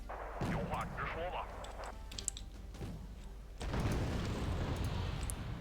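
Anti-tank guided missiles firing in the Wargame Red Dragon strategy game, a couple of sharp launch bursts followed by a rumbling, noisy blast, all fairly faint under a soft background of game sound.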